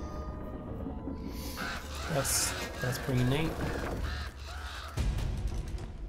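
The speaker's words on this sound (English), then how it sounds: "There's birds there, apparently." Crows caw repeatedly in the video game Uncharted: Drake's Fortune, a few harsh calls rising over steady game ambience while someone talks over them.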